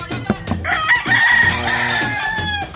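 A fighting rooster, a gamecock kept for cockfighting, crows nearby in one long, loud, wavering cock-a-doodle-doo, with a few short clucks and farmyard noises before and around it.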